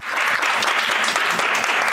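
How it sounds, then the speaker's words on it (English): A crowd applauds steadily and loudly at a mayoral swearing-in ceremony in Sharpsburg, the dense clapping sustained without a break. "garnered a round of applause as he was sworn in as mayor of Sharpsburg"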